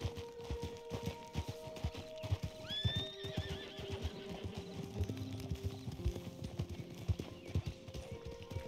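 Steady clip-clop of horse hooves runs throughout, with a clear whinny rising partway through over a layer of background music, from the video game Red Dead Redemption 2.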